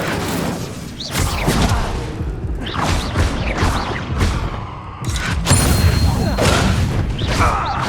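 Incendio fire spell cast in the Hogwarts Legacy video game: a dense roar of whooshing flame and crashing booms runs throughout, swelling loud near the middle and end, with no talk over it.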